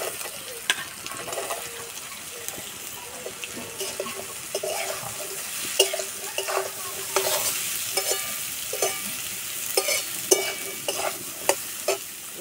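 Onion, carrot and potato pieces are stir-fried in a pan, a constant sizzle punctuated by frequent irregular scraping and clacking strokes of the spoon, close and lively, with no speech.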